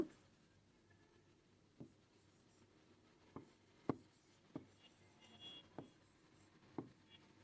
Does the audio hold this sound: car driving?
no